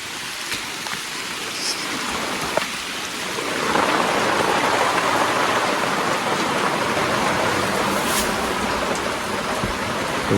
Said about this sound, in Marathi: पाऊस पण पडतो आहे.